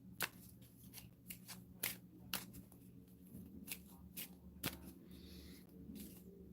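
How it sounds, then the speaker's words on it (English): A deck of game cards for Robin Hood Heroes of the People gets shuffled close by in a quiet room, sharp riffling bursts and soft slides coming in short repeated passes, with no talking. "time to shuffle and draw 2 more"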